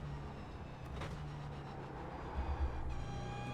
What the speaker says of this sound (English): hear the tyres squirming